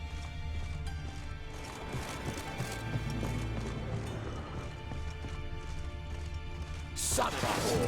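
Horse hooves galloping in the video game The Witcher 3, a rapid clip-clop rhythm running steadily under battle noise and shouting voices, with a sharp crash near the end.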